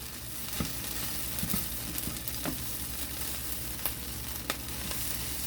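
Ingredients seasoned with celery salt being stirred together in a hot pan, a steady broadband sizzle running throughout with occasional soft scrapes and clicks of the utensil, close and moderately loud.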